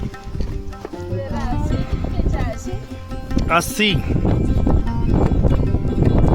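Horse hooves clop on a mountain path climbing toward the Kartik Swami temple steps in Rudraprayag, Uttarakhand, with irregular nearby footfalls mostly under continuous conversation and a brief whinny-like call midway.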